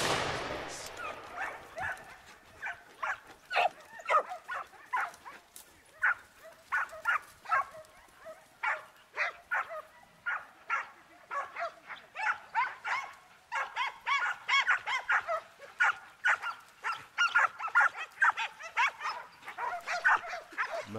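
A pack of hunting dogs barking and yelping during a wild boar hunt in Portel, Portugal, dozens of sharp barks in a steady rapid chorus, moderately distant and echoing, growing denser toward the end.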